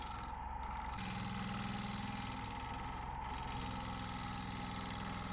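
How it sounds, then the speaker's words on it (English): A wood lathe spins a flame elm bowl blank held by a drilled mortise at 1400 RPM, giving a continuous, even motor hum with a steady tonal whine, close by and uninterrupted, with no voices. "we've got it on the lathe in the mortise that I drilled in the back, and we're turning at 1400 RPM straight off"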